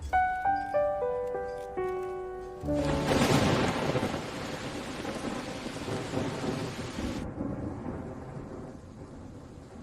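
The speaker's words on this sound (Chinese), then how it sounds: "怎么下雨了" A few bright musical notes ring out, then a sudden, loud wash of heavy rain with a rumble of thunder sweeps in and continues steadily before easing to a softer, lower patter.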